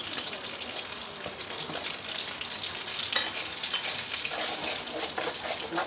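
Fried hilsa fish being broken apart in a hot oiled pan, giving a steady close sizzle and crackle of frying with light scraping and stirring throughout.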